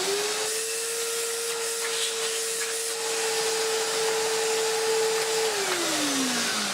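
An Electrolux The Boss Cyclone Power Lite (Z) B4391 vacuum cleaner in need of refurbishment running loud and close, a steady roaring whine with a constant motor tone that drops in pitch near the end.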